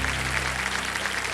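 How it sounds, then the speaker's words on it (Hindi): Audience applause in a Kaun Banega Crorepati quiz show studio, a dense steady clapping from a crowd filling the whole moment, loud and continuous without pause. "तालियां बजा देंगे।"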